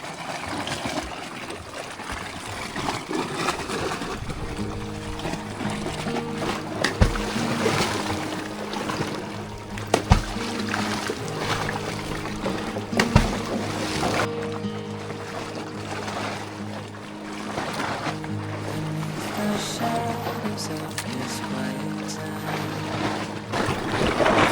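Sea waves build and slosh around a small boat off an island, broadband water wash rolling steadily beneath a low, continuous motor hum, with a few sharper splashes and knocks against the hull.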